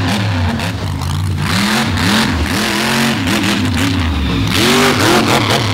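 A Jeep drag racer with a big Steve Vance engine accelerating hard down the strip at Dragway 42, a loud, close engine roar with rising and falling revs as it pulls through the run.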